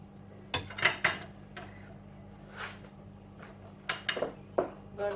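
Coarsely crushed garlic going into a pan in a home kitchen, heard as metallic clinks and scrapes of a spoon against cookware, scattered sharp taps over a low steady hum.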